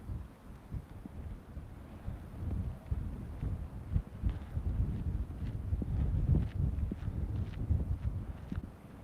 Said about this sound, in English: It's getting a little bit windy here.